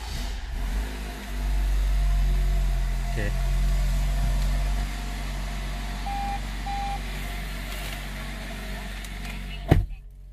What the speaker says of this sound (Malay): Saya cuba start engine.